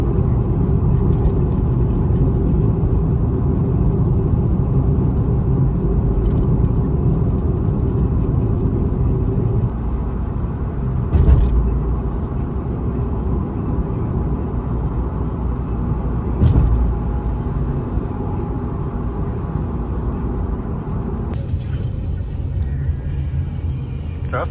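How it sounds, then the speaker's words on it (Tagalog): Road traffic rumbles steadily from inside a Honda City car, a dense low drone of engines and tires with a couple of faint thumps partway through; no one talks over it. "Traffic."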